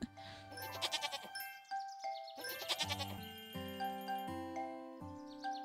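A goat bleats in the farming video game Harvest Island, giving a run of quavering calls alongside light chiming, tinkling game sounds and musical tones.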